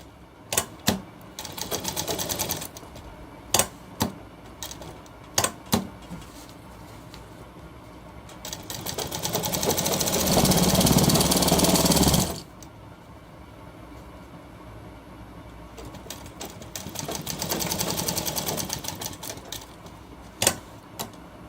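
A sewing machine stitches along a shirt sleeve cuff in two steady bursts, separated by sharp clicks and handling knocks, heard up close with no talk.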